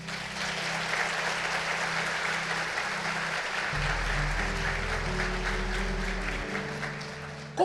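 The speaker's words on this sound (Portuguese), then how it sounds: "Você pode aplaudir Jesus?" Applause from a church congregation during a gospel sermon, a steady wash of clapping that holds for several seconds with low organ or keyboard tones sustained underneath.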